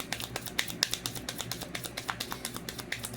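Rapid crisp snaps and riffles of tarot cards being shuffled, a quick irregular run of close, fairly quiet flicks with no talking.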